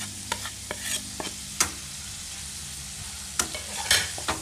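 Dry ground spices (black pepper, cumin, turmeric and salt) for chicken butter masala frying in a pan, with quiet sizzling under intermittent sharp scrapes and taps of a stirring spoon.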